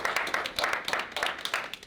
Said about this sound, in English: Give everybody a clap, round of applause.